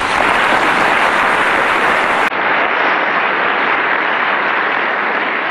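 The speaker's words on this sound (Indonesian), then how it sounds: "Boleh kita kasih tepuk tangan untuk" A television studio audience applauds loudly in a dense, sustained wash of clapping that runs throughout and stays at full strength.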